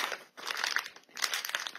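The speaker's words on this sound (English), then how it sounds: "we're going to tear this open" A craft kit bag holding a paper rabbit mobile and stickers is torn open, giving two short bursts of close, crisp plastic crinkling and ripping with a brief lull between.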